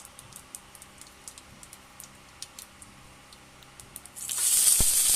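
Panch phoron five-spice seeds drop into hot oil while cooking a small-fish jhal. Faint scattered ticks and crackles come first, then a sudden loud, steady hissing sizzle that fills the last second.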